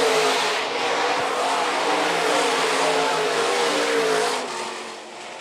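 Stock cars race around the dirt raceway at Phillips County Raceway in a single-file main event, with loud roaring engines passing continuously that fade slightly at the end.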